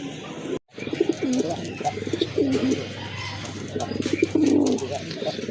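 Native and large pigeons coo steadily in a loft, their soft throaty calls overlapping in repeated rolling phrases with a few chirps, close and fairly loud, with no talking.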